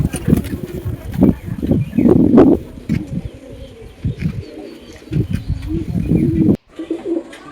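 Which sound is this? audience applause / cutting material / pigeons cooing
pigeons cooing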